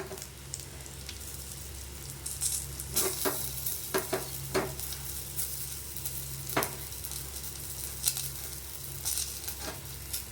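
Spices, coriander and asafoetida sizzle in a pan for Mysore rasam, a steady frying hiss broken by clinks and scrapes of a stirring spoon, close and without talk.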